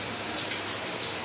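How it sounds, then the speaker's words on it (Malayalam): Heavy rain falls outside in a steady, dense hiss of drops, loud and unbroken throughout the short stretch. "പുറത്ത് നല്ല മഴ പെയ്യുന്നുണ്ട്, അതിൻ്റെ സൗണ്ട് കേൾക്കുന്നുണ്ടാവും."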